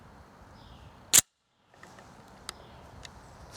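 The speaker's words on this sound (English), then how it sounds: "Let me go ahead and put the safety on." The safety on a Remington Model 121 pump-action .22 rifle snaps on with one sharp metallic click. Near-silence follows, then a few faint small clicks.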